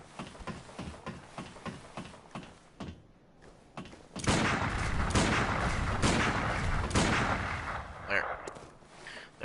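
Gunshots in the video game Bloodborne: a run of sharp, evenly spaced impacts opens the scene, then after a brief lull a loud, dense stretch of blasts and crashes follows, fading toward the end.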